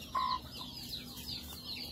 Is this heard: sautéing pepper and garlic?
no